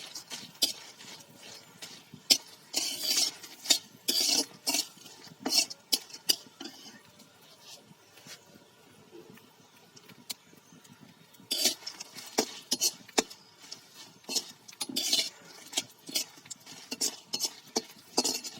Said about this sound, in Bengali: এই শুকনো মরিচ ভাজা শেষ হয়ে যায়